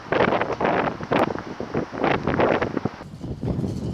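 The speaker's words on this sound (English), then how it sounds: "I can't do this anymore because it's too windy" Strong outdoor wind buffets the microphone in rough, gusty bursts that rise and fall every second or so, loud and close, with no voices.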